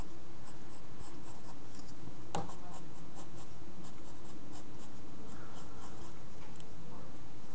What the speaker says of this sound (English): go ahead and draw the rest of the arm